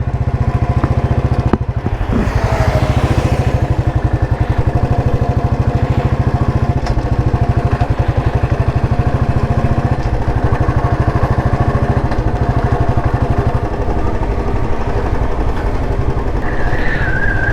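A Royal Enfield Bullet motorcycle engine thumps steadily while riding on a highway, loud and close, with constant wind rush over a continuous low rhythmic drone.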